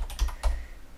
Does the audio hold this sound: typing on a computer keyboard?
yes